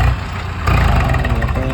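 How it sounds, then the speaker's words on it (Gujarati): A stuck tractor's engine runs close by, a loud, steady diesel rumble that rises as the throttle opens partway through. "જો ટ્રેક્ટર ફસાઈ ગયું છે"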